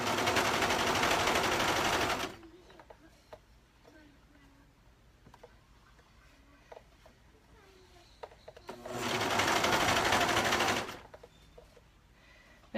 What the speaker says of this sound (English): I'm just sewing down the side there, attaching front to back, mane and lining